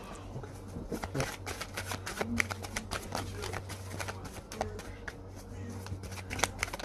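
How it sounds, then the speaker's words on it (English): Tarot cards are shuffled and pulled from the deck at close range, a run of quick crisp flicks and slaps under a low steady hum, with light talking at moments. "I am going to pull a couple of these cards."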